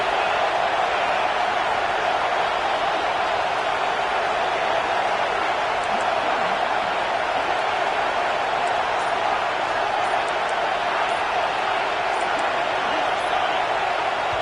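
A football stadium crowd late in a close game holds a loud, unbroken roar with a constant hiss-like wall of noise throughout.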